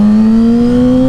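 A Yamaha R6 motorcycle with an ECU flash and full exhaust revs hard, a loud, close, rising engine whine that climbs steadily in pitch without a break.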